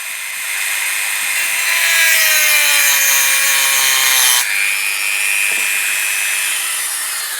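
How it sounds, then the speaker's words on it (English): A Dremel spinning a diamond cutting wheel bites into an old steel steering bearing race on a Kawasaki BN125 Eliminator, giving a loud, steady, high-pitched grinding whine whose pitch drifts as the load changes, with no talking. "diamond cutting wheel on a Dremel, and we're going to try and cut off this old steering race"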